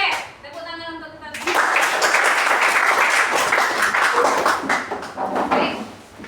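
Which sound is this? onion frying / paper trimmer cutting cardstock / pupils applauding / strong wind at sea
pupils applauding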